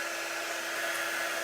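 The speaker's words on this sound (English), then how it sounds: "Our little heat tool doesn't get that hot, so it takes a little bit longer." Small electric heat tool blowing hot air to dry ink on a sweatshirt, a steady airy whirring hiss held at an even level throughout, close and alone without voices.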